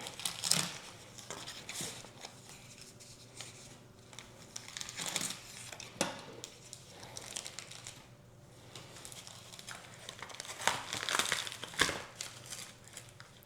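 Taped mail packaging around a plant is pulled open up close, with soft crinkling, scraping and tearing in uneven bursts and no one talking.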